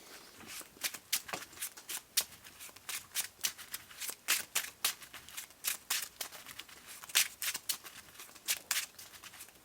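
Playing cards being shuffled during a Marvel Champions card game, a close series of crisp, rapid riffling bursts repeating in quick rhythmic pulses with brief gaps between them.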